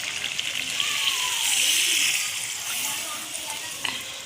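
Warm water poured into masala frying in a pan for a meat curry, a steady sizzle and hiss with light stirring throughout, surging briefly as the liquid hits, close up and with no talk.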